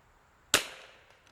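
A single sharp gunshot from a Rimx rifle fitted with a Desert Precision Gunworks modification and test barrel, a sudden crack heard at some distance followed by a short decaying echo, with no talking.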